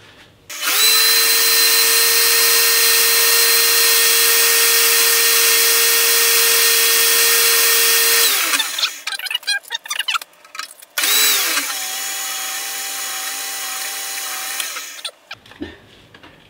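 A power drill bores 2.5 mm holes in a thin metal strip about 1 mm thick, whining loudly and steadily for around eight seconds, stopping briefly, then running again for another four seconds, close up with no talking.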